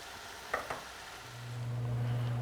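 Homemade smoked bacon frying in a pan, a steady sizzle with a couple of quick utensil clinks as the strips are turned, then a low hum rising beneath.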